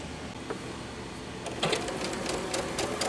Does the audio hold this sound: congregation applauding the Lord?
no